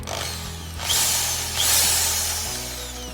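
A Maktec MT80B power drill whirs steadily, rising twice into higher-pitched bursts of running before settling; close and fairly loud, with no talking.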